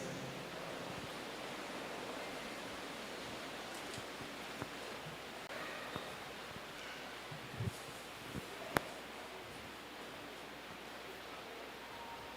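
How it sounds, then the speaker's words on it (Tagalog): Strong wind gusting during a storm with rain, a steady broad roar filling the whole clip with a few faint knocks and clicks; no voices. "Lumalakas yung hangin."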